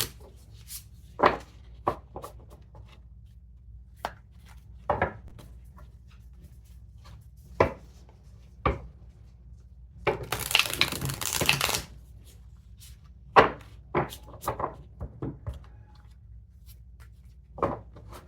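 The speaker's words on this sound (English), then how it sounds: "you can fast forward through the shuffling" Tarot cards being shuffled in a quiet room, heard as a run of soft, scattered riffles and taps with one denser, louder burst of shuffling midway, all close and with no talking.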